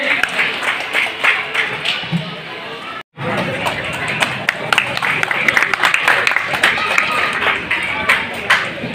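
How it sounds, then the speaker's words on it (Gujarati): An audience claps at a community get-together of the Ahir society in Adajan, Surat, a dense, scattered patter from a crowd that continues with a short break, mixed with talking. "તાળીઓથી વધાવી લઈએ."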